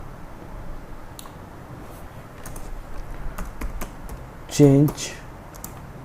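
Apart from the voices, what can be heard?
typing code on a computer keyboard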